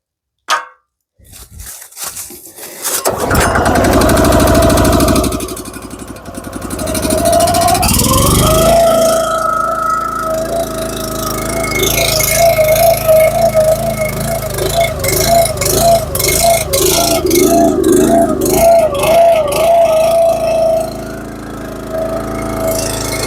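A small engine with the choke on is pulled into life after a brief knock, catches and runs steadily at a loud, close, slightly uneven idle, its pitch wavering as it warms.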